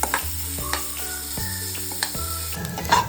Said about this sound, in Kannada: ಆನಿಯನ್ನು ರೆಡ್ ಆಗೋವರೆಗೂ ನಾವು ಫ್ರೈ ಮಾಡ್ಕೊಳ್ಳೋಣ.